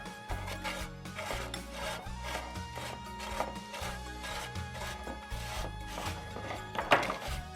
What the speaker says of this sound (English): So I'm gonna grate up some carrots here.